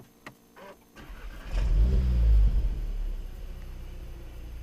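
A 2015 Volkswagen Golf R Mk7 fires up from a push-button start after a few faint clicks, then settles into a deep, bassy exhaust idle rumbling steadily close by.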